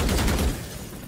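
A brief burst of rapid gunfire in a tactical shooting video game, loud and close, fading out after about half a second.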